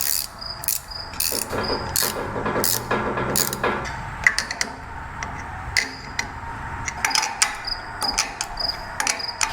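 A ratchet runs nuts onto strut spacers on a Land Rover LR4 suspension, producing rapid bursts of sharp clicking, dense at first and then more scattered, close and fairly loud.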